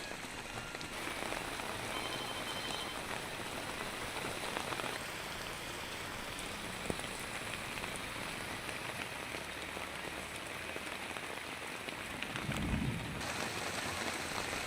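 Heavy rain pours down steadily in Navi Mumbai, a dense, unbroken hiss of drops drumming on surfaces, loud and close throughout with no voices.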